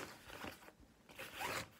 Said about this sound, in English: It has a zipper that you can put everything inside